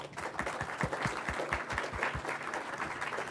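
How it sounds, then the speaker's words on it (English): A room of attendees at a diversity and inclusion session at GeoCongress 2012 claps steadily, with individual hand claps standing out near the front over a quieter, continuous wash of applause. "I'd like to give Sandra and the others a round of applause."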